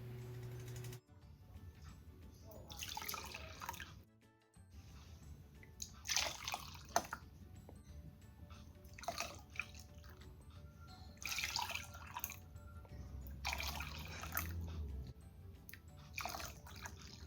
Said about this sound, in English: So now I'm about to pour them into my glasses.